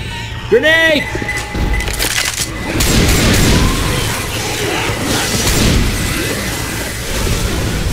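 Grenade explosion in the video game Left 4 Dead 2, set in a shopping mall, booming with a sharp crack and followed by rumbling debris and chaotic gameplay noise while characters shout nearby.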